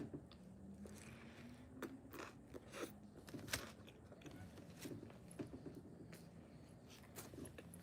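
Eating sounds carried over a live stream: crunching bites and wet chewing repeat irregularly throughout, loud and close, as if the mouth sits right at the microphone, with no speech.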